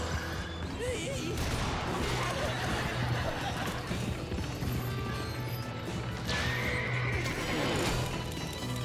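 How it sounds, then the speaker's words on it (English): A horse in The Gunstringer, an Xbox 360 Kinect game, neighs loudly and gallops with clip-clop hoofbeats, set against busy game music and effects, with a voice talking over parts of it. "That's a good horse. I like that horse."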